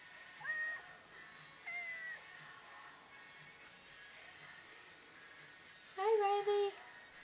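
A cat meows outdoors in falling snow, three short cries spaced apart with the last one louder and drawn out, heard close over quiet background hiss, with a person speaking softly between the cries.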